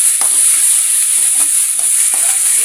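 Ground tomato sautéing in a pan for a wheat-flour pasta dish, with a constant close sizzle and a few rhythmic spoon scrapes as it is stirred, and no speech.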